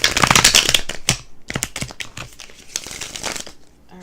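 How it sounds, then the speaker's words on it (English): Tarot cards being shuffled, a run of crisp riffling flutters and soft slaps close by with short pauses between bursts, no talking. "one more shuffle"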